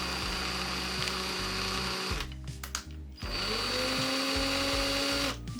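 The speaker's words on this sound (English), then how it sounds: "Then hold her tightly and slowly drill in." A small rotary drill bores a hole into a UV resin charm, whirring quietly and steadily, pausing briefly, then spinning up again and running on close by.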